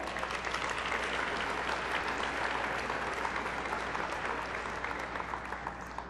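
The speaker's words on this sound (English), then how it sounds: "Let's have a big round of applause for our sponsor," Dense, steady applause from a large crowd at the opening of a 2005 gaming Grand Final, sustained throughout at an even level with no voices standing out.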